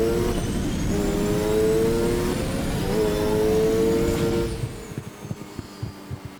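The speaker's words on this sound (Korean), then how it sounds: "먼저 엑셀키를 누르면서 니트로를 사용했을 때의 가속입니다." A car in the Need for Speed Edge racing game accelerating with nitro engaged and the throttle held down, its loud engine whine climbing steadily in pitch for about four and a half seconds before cutting off to sparse clicks and thumps.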